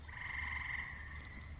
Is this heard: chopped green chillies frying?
no